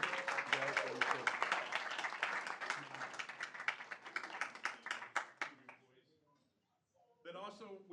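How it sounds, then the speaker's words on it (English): A round of applause from the audience at a Merriam city council meeting, dense clapping that carries on steadily for several seconds, thins into scattered claps, falls silent, then briefly resumes. "let's give a round of applause for these people"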